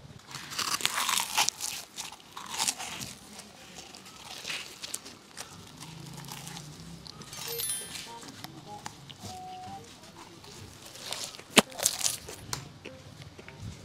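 Crisp crunching bites into a fried fish cake close to the mic, with intermittent chewing and faint background sounds between the bites.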